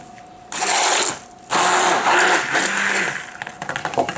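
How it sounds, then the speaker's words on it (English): A handheld stick blender whirs in bursts in a home lab kitchen, two short runs of motor whine and then a longer one, with rattling, clicking mechanical texture toward the end. "I'm using my stick blender to make sure"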